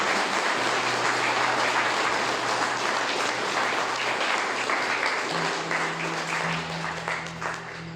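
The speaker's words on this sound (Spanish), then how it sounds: "Y dale un aplauso al Señor." A church congregation applauds during a Spanish-language sermon, steady dense clapping that fills the room for several seconds before slowly thinning.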